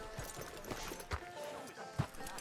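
Horse hooves clip-clopping in the Western video game Red Dead Redemption 2, a few soft irregular hoof thuds at a moderate distance over a low steady background.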